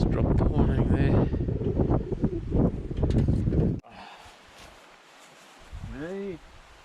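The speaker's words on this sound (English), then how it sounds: "The wind is now coming from the good old west, almost westerly actually." A westerly wind buffets the microphone in New Zealand backcountry, with heavy low gusting while someone talks, then easing to a softer rush; a brief whistle-like tone rises near the end.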